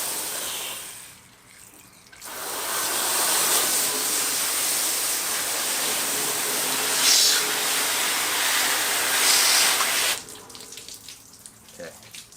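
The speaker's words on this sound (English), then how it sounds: "Let me rinse everything down." Water rinsing down a chicken processing station, a strong steady hiss of spray running for about eight seconds between quieter handling noises, close to the listener.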